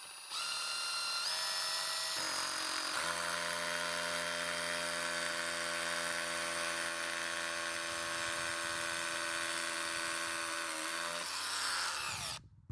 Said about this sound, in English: now time to drill the pilot hole first, and of course we're going to drill up at a slight angle